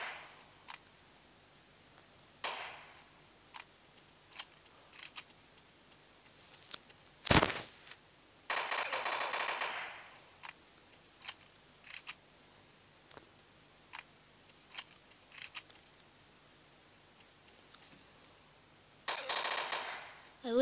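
Gunfire in a zombie video game, sparse and quiet: scattered clicks and single shots with a louder burst mid-way and another near the end, mostly alone.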